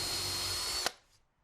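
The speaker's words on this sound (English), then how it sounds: "that is where we'll drill our holes for our handle." A power drill bores holes for a cabinet drawer handle, whining at a steady high pitch for under a second before stopping abruptly and spinning down into quiet.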